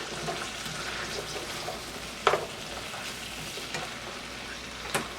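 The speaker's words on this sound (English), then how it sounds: "I'm going to throw our mushrooms right in there. We're going to cook these down in this butter." Mushrooms sautéing in butter in a pan beside hamburger patties, a steady soft sizzle broken by a few sharp clinks and scrapes of a utensil.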